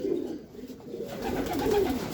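A racing pigeon arriving home from a race coos softly and close by, a short, low, throaty call repeated over a quiet background.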